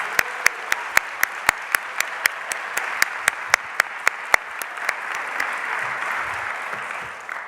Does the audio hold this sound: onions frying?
no